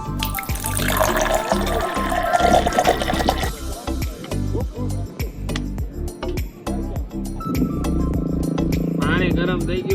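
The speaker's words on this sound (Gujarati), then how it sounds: "પાણી આપણે થોડુંક વધારે નાખીશું કારણ કે વધારે મેગી છે." Water pours into a pot for Maggi noodles outdoors at Table Point in Saputara. A strong rushing pour fills the first few seconds, followed by sporadic splashes and clatter under voices talking.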